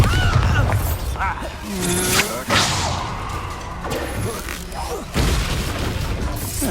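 Bombarda explosion spell cast in the video game Hogwarts Legacy, heard as heavy booming blasts and crashing impacts with whooshes amid loud, busy combat noise.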